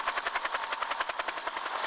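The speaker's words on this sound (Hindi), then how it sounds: "इधर उसकी बीवी को अचानक घर के ऊपर हेलीकॉप्टर की आवाज सुनाई दी।" A restored helicopter passes over a house, its rotor beating out a steady, fast chop with a loud, continuous whine underneath.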